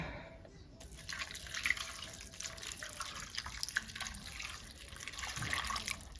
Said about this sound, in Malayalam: അതിലേക്ക് വെള്ളം ഒഴിച്ചു കൊടുക്കാം.